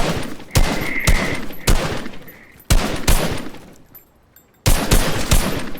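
Gunfire in the Fortnite video game comes as loud, sharp bursts of rapid shots separated by brief pauses, with several clusters of fire and faint tonal game effects between them.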